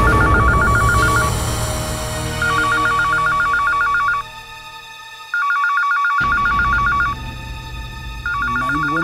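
A telephone rings in repeated bursts of electronic trills, loud and close, with brief pauses between rings over a low background hum.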